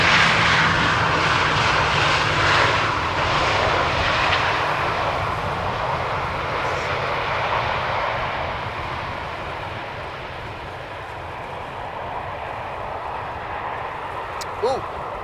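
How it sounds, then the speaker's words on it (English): A Transavia Boeing 737 lands on Schiphol's Polderbaan runway on a hot sunny day, its loud jet roar steady at first and then slowly fading as the aircraft rolls out. "The first 737 of Transavia just landed"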